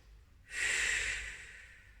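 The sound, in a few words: deep breathing in through nose, out through mouth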